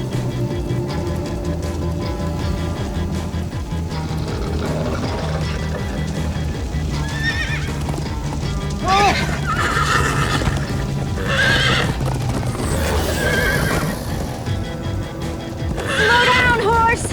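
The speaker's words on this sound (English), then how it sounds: "Slow down, horse!" Horses whinny several times and hooves clip-clop over a busy, steady background of rumbling noise and music, with voices mixed in, in the video game Minecraft: Story Mode.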